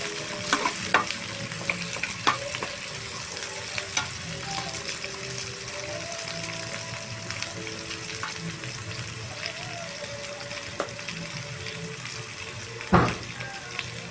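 Potatoes, carrots and bell pepper sautéing in a pan for caldereta, a steady sizzle with occasional stirring clatter running throughout, close and moderately loud, with a sharp utensil knock near the end.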